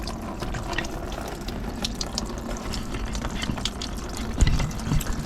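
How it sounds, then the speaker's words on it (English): Engine coolant draining and dripping from a Volvo XC90 II D5 in a driveway, a steady trickling, splashing liquid stream with scattered drips, close and fairly loud, one sharper splash near the end. "so it is dripping."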